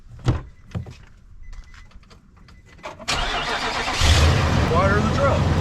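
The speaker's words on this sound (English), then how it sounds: "start your truck up" A pickup truck engine cranks and catches at about three seconds, then settles into a loud, steady idle that rises slightly a second later. Faint clicks and movement come before it.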